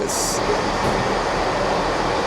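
A Class 158 diesel train at Carlisle station gives a steady low rumble and hum throughout, with a brief high hiss near the start and a voice speaking faintly over it.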